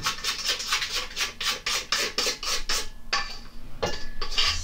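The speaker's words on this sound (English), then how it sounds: "I'm gonna scrape that down again." A spatula scrapes snickerdoodle dough down the sides of a mixing bowl in quick rhythmic strokes, about a dozen close rasping passes, then a short pause and a couple more scrapes.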